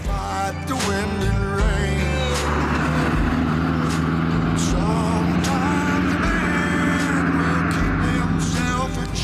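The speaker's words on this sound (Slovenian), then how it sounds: "Tega Caprija namreč poganja atmosferski bencinski motor V4, ki zmore 55 kW moči" A Ford Capri's naturally aspirated 55 kW V4 petrol engine runs loud and close, its steady hum shifting pitch as the revs rise and fall.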